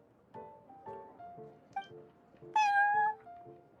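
A cat meows repeatedly in the Cat's Tail tavern in the video game Genshin Impact: a string of short, tonal mews, with a louder, longer, brighter meow near the end, heard clearly with no talking.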